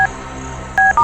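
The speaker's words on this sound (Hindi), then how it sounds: "अरे किसका फोन आ रहा है? फोन उठाइए" Short electronic tone bursts, two clear beeps near the end after a faint blip at the start, like a phone signalling over a steady low background hum.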